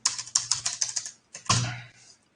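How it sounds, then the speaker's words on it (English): Close, crisp keystrokes on a computer keyboard: a quick run of about ten clicks, a short pause, then a heavier key press that fades out, with no speech. "Oh, typing is hard."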